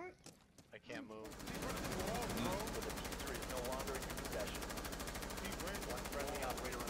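Sustained rapid gunfire in Rainbow Six Siege, a dense and loud automatic burst that starts abruptly after a few brief sounds and continues unbroken to the end.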